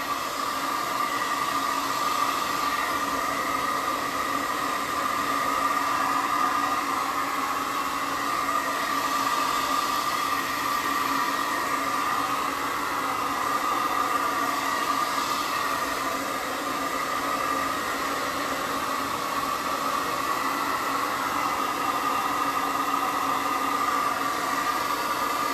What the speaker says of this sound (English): Right now I'm drying my board off so I can paint without it turning gray or muddy.